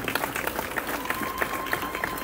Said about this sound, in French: Applaudissez fort pour lui